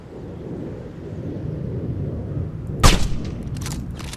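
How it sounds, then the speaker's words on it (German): A single sniper rifle shot in the video game Sniper Ghost Warrior 2, one sharp loud crack with a brief echoing tail over a low rumbling ambience, no talk. "Sauberer Schuss."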